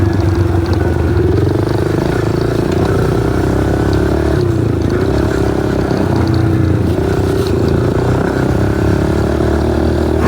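Trail bikes, a Kawasaki KLX 110 and a Suzuki DRZ400, ridden on a dirt track. The engine drone is close, loud and continuous, with small dips and swells in pitch as the throttle changes.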